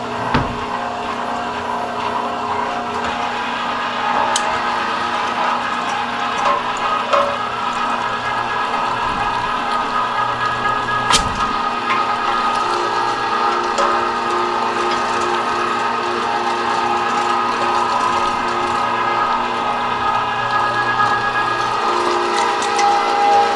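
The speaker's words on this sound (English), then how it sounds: "I've got a number 12 Weston grinder." A Weston number 12 electric meat grinder coarse-grinds partly frozen deer meat, producing a steady, loud motor hum and whine that runs continuously with a couple of brief clanks.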